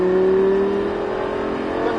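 A Lamborghini LP560 pulls hard along the Circuit de Folembray, its engine a steady, loud droning roar heard from close by with no voices over it.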